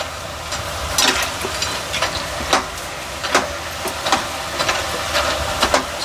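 Butter murukku dough spirals frying in hot oil, a steady bubbling sizzle with scattered sharper crackles and pops spread across the stretch, fairly close and without speech.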